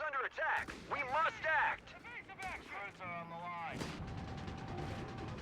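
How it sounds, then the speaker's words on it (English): A pack gun fires on a quad half-track in Company of Heroes 3: a sharp report bursts out late, followed by a rattling run of battle noise, after someone talks excitedly over it. "Pack gun opened up on the quad."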